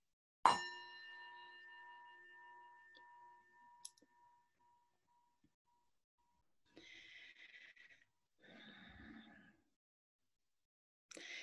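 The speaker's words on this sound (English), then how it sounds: "I'm going to um, ring the bell for starting this next session section" A single bell struck once to open a talking circle session rings out clearly, its tone decaying slowly over several seconds in a quiet room, followed later by a few soft rustling and breathing sounds.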